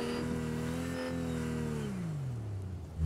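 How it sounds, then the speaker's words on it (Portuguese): A motorcycle engine in Fortnite holds a steady droning pitch, then drops as the bike pulls away uphill. It is heard alone at moderate loudness. "Tem uma moto subindo aqui."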